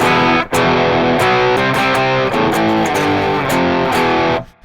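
Electric guitar played through an overdrive pedal and noise gate in AmpliTube 5, aiming for a pop-punk tone, strums loud, crunchy chords with quick chord changes and a sharp stop at the end.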